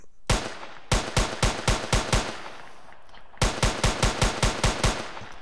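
Gunshots ring out at a shooting range built in Unreal Engine 4: two sharp bursts of evenly spaced single shots, about six and then seven, loud and close, with a brief pause between the bursts.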